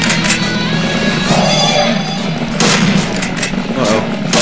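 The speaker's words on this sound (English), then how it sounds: "Me shooting at him because he's metal and so many bullets are hitting him." Shotgun fire hammering a metal enemy in the video game Slendytubbies: Growing Tension, several loud blasts with clanging impacts in quick irregular succession over a dense, noisy game backdrop.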